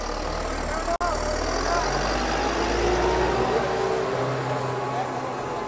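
A Guard World WD 754 tractor runs with a 13-tine cultivator, its engine a steady, loud, close diesel drone that continues without letup apart from one split-second dropout.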